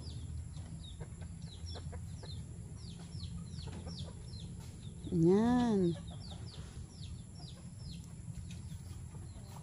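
Chickens cluck and chirp repeatedly in a busy background, with a person speaking briefly partway through.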